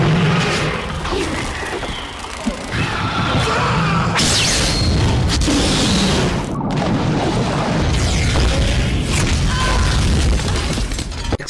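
Loud, dense explosions and crashing blasts from the 1997 horror film Mimic, with booms and shattering debris rolling continuously over several seconds amid heavy rumbling mechanical noise.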